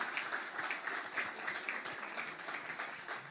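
Church congregation clapping at a 25th-anniversary celebration in Portugal, a steady moderate patter of many hands lasting throughout, fairly even with no talk.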